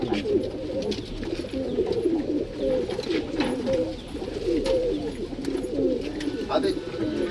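Dawoodi pigeons coo in a loft, soft rolling low calls repeating close by in overlapping bursts, with people's voices faintly present.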